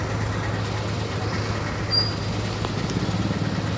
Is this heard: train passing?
yes